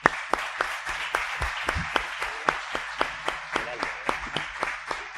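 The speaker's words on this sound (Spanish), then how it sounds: "le pido un fuerte aplauso" Audience applause in a hall, sustained clapping from a group with sharp individual claps standing out over a steady patter, fairly close, lasting about five seconds without speech.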